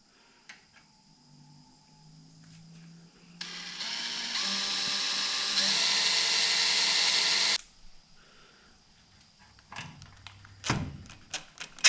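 A power drill whirs up in stages, running loud and steady for several seconds before stopping, followed by a few handling knocks and clicks.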